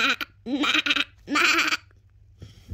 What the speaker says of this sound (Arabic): انا سمعت صوت خروف